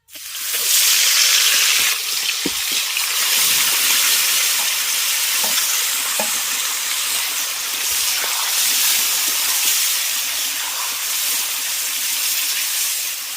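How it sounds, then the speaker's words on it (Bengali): Marinated free-range chicken frying in very hot mustard oil, a loud steady sizzle with broad hiss that fills the whole stretch, broken by occasional stirring scrapes and clicks; no voices. "এবার তেলের মধ্যে ম্যারিনেট করে রাখা মাংসটা দিয়ে দেবো"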